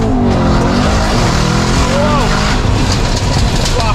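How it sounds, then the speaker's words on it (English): Rear Michelin PS4 tyres spin on a stage 3, 1007 bhp Mercedes E63s, a loud close roar of engine and squealing wheelspin with rising and falling tire chirps, a voice talking over it. "just trying to feather the throttle just. I've got PS4s at the back, but they're spinning now"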